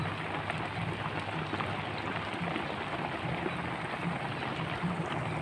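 Rain falls steadily around a fishing boat, an even, continuous hiss of drops with no voices.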